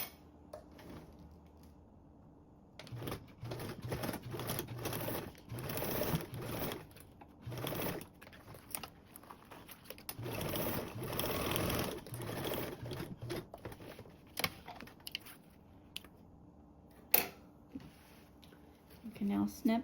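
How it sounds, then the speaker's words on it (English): A sewing machine stitches a duffle bag lining seam in several bursts of rapid mechanical whirring, pausing and restarting between runs, with faint handling clicks in the quiet gaps. "Now you can sew with a 1/4 seam allowance."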